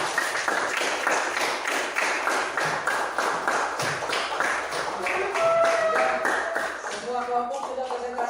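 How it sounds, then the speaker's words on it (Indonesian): A classroom of students applauds a presenting group, dense steady clapping running the whole length, loud and close, with some talk and a brief tone near the end. "Tepuk tangan buat kelompok 5"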